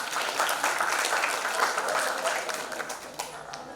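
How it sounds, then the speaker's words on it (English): An audience at a talk on understanding GST applauds to welcome the speaker, a dense, steady wash of many hands clapping at moderate loudness, filling the room evenly throughout. "A huge round of applause"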